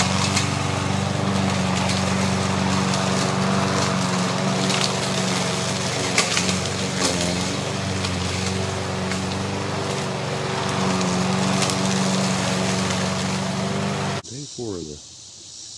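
A lawn mower engine drones loud and steady while mowing wooded acreage, a constant low hum with a brief clatter near the end as it cuts off.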